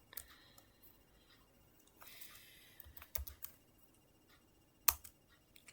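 Keys tapped on a computer keyboard while router settings are re-entered, quiet scattered clicks in short irregular bursts with a few louder strikes and pauses, no talking.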